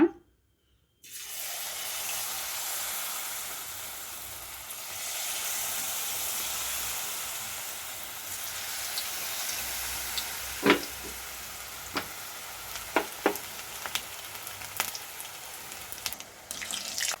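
Cauliflower florets for gobi manchurian dropped into hot oil to deep-fry, bursting into a steady, bright bubbling sizzle that carries on, with scattered clinks of a utensil in the later seconds; no talking.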